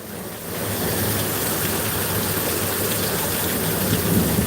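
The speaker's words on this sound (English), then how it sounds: "This is a typical storm," Steady, dense rain roars throughout, a broad wash of noise with a low rumble underneath, loud and continuous with no voices.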